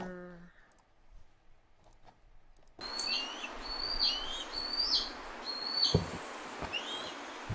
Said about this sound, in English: let's listen to that Harris's hawk